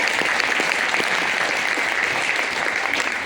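Loud, continuous audience applause at a Modicare company gathering, a thick uniform wash of many hands clapping without pause.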